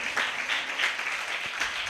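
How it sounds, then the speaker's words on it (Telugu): A church congregation claps during a sermon, a steady burst of applause in a reverberant hall. "గట్టిగా చప్పట్లు కొడదామా?"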